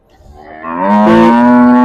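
A single loud, close cow moo swells and holds at Rampura livestock market, standing alone with no talk.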